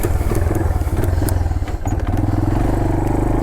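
A 1983 Yamaha Tri-Moto 200 three-wheeler engine runs loud and close, a steady throbbing putter with clattering mechanical noise and no talk over it.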